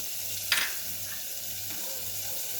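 Finely chopped onions and capsicum fry in a pan with a soft, continuous sizzle, broken by one brief sharper hiss and faint stirring.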